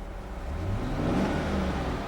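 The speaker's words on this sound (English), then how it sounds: "I'm going to rev the engine" A 2007 Chevrolet Suburban LT with a 5.3 liter V8 is revved while parked, the engine note rising steadily and holding a loud, close, even roar.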